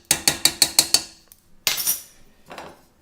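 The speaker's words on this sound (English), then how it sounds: "And stir." A metal spoon clinks repeatedly against a bowl while stirring yogurt into milk: six quick, evenly spaced bright taps, then a scraping swirl and a fainter final clink, close and clear with nobody talking.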